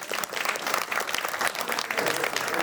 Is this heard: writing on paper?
no